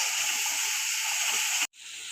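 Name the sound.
chili, cumin and coriander powder masala sizzling while frying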